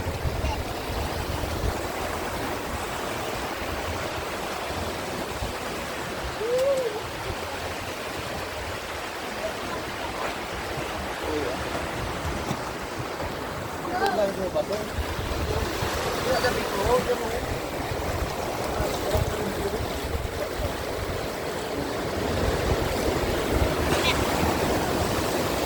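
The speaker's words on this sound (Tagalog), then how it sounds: "Malakas, malalim pa yung tubig." Strong, deep river water rushing steadily outdoors, a dense low roar that stays constant throughout, with a voice faintly audible beneath it.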